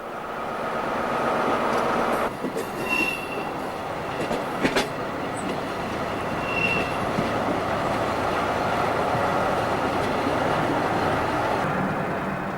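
X3800 Picasso diesel railcar running along main-line tracks past a freight yard, a continuous loud rumbling ride with rhythmic clatter and brief squeals from the wheels.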